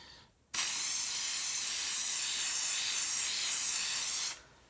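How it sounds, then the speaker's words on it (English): Spray can test burst while making counters: a single sustained hiss running about four seconds, steady and close, starting and stopping abruptly. "Yeah, test spray first."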